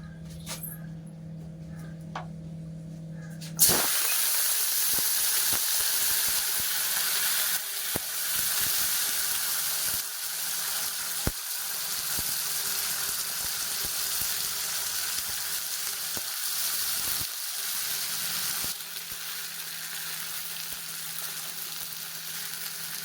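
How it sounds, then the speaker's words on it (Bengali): Long beans dropped into hot oil in a pan, starting with a sudden loud sizzle that settles into a steady, continuous frying hiss with occasional clinks and stirring. "ভালো মতো গরম হয়ে গেছে এবারে বরবটিগুলো ভেজে নেবো"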